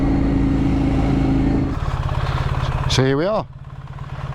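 A brand new BMW R1300 GS motorcycle, demo bike in triple black, idling close by with a steady rumbling pulse that shifts mid-way into a choppier throb, while someone talks briefly over it.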